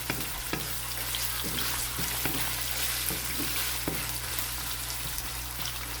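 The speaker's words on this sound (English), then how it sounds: "Saute until this is fragrant or slightly golden brown or translucent." Garlic sautéing in a pan after onions, a constant close hissing sizzle with occasional light stirring taps, no talk.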